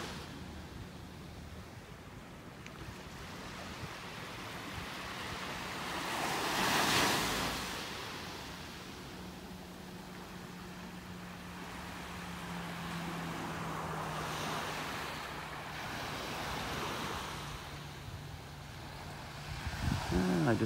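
Ocean waves roll onto a beach in North Naples, Florida, as a steady wash of surf with two broader swells building and fading, under constant wind buffeting the microphone.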